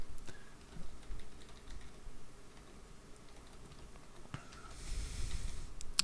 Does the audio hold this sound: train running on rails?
no